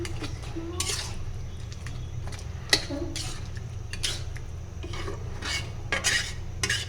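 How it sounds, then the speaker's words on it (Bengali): Soaked mung dal is stirred with a rohu fish head in a pan, giving repeated scraping and clinking utensil strokes over a steady low cooking hiss, close and moderately loud. "গাইস আমি এখন আর একটু কষিয়ে নিব"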